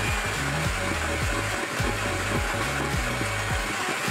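Electric mixer whirring steadily while blending peach cobbler cream cheese pound cake batter, a continuous close motor drone with small changes in pitch as the load shifts, no voices.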